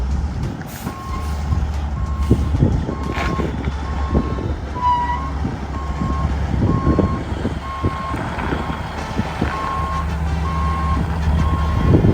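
A Michigan Special dump truck at a construction site sounds its reversing alarm, a steady series of evenly spaced beeps over the loud, rumbling diesel engine, with occasional clanks and air hisses.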